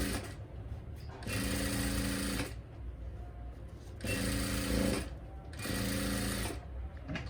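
A sewing machine stitches a salwar hem in three loud, steady runs, each lasting about a second and a half, separated by short quiet pauses. No one speaks.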